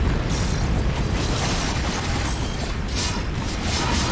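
Dense, continuous crackling bursts of ice explosions in a sci-fi roguelike shooter, loud and busy throughout with overlapping pops and blasts and no pause.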